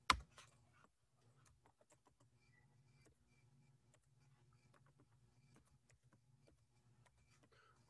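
Quiet computer keyboard typing in a classroom, a sparse patter of soft key clicks spread steadily over several seconds against a low background hum, after one louder knock at the start.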